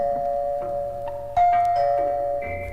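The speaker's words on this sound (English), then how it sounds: "the doorbell rang" A doorbell rings in a quiet living room in an old radio drama, two sustained electronic chime tones sounding in sequence, the second entering sharply partway through over a low steady hum, with no talk.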